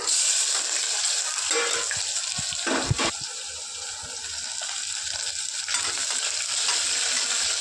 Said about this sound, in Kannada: ಈರುಳ್ಳಿ ಬ್ರೌನ್ ಕಲರ್ ಆಗೋವರೆಗೂ ಫ್ರೈ ಮಾಡ್ಕೋಬೇಕು